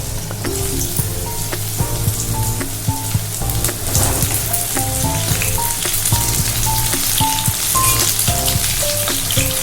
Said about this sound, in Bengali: আগে পটলটা ভেজে নেবো ভেজে তুলে রাখবো